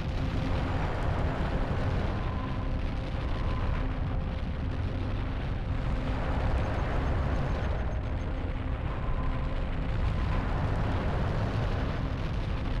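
Continuous roaring fire and flames in the N64 game Hybrid Heaven, a steady dense rumble with faint tonal hum underneath, loud and unbroken throughout.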